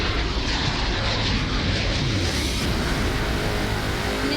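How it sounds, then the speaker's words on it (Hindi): Chinook helicopters fly in formation during an Indian Air Force Day dress rehearsal at Hindan airbase, giving a loud, continuous roar of rotors and engines that swells slightly as they pass overhead. "यहाँ पर आपको मैं दिखाना चाहूंगी एयर फॉर्मेशन यहाँ पर चिनूक हेलीकॉप्टर ने बनाया है"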